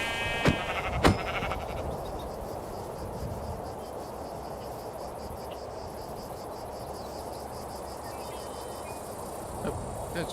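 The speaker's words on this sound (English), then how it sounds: "There's some sheep." Sheep bleating faintly in Minecraft near a village, a couple of short bleats early on over a steady insect-like chirping ambience, then quiet background.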